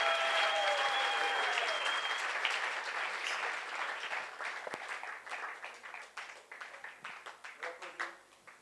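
A congregation at a church service applauds to welcome a guest pastor from South Africa, starting as a dense crowd of clapping under a brief musical tone, then thinning into scattered individual claps toward the end.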